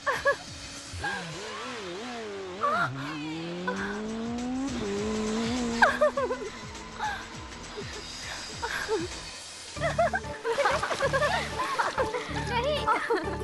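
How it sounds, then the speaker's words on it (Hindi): Stunt motorbike riding in an action movie, with squealing tires sliding in long rising and falling whines, engine revving and a rough skid toward the end, loud and close with background music and voices. "तुमने देखा था ना कितनी जबरदस्त बाइक चला रहा था वो"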